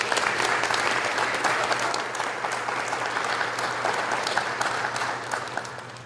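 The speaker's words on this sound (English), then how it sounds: "One more round of applause for them." An audience claps steadily and warmly for about six seconds, a dense wash of many hands that eases slightly toward the end, with no voices over it.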